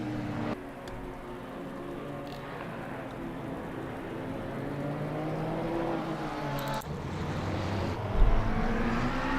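Race cars, including Porsches and McLarens, roar around the Spa circuit, with a steady, loud engine drone of several cars running together and a brief surge near the end.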